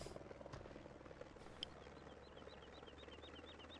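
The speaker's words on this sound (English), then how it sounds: "Yes, there's a helicopter there. Kind of looks like a military helicopter almost." Heard in Farming Simulator 15, a military helicopter keeps up a low, steady rotor drone in the background, broken by a couple of brief clicks, with faint chirping bird calls in the ambience and no voices.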